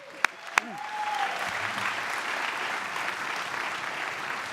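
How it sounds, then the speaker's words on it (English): A banquet audience breaks into steady applause after two sharp early claps, the sustained clapping filling the room evenly throughout. "just give them a big round of applause, everyone"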